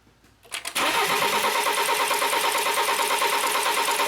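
A BMW X3 with a no-start fault cranks after a quiet moment, a brief stutter followed by a loud, steady, rhythmic starter whir that continues without the engine catching, heard up close.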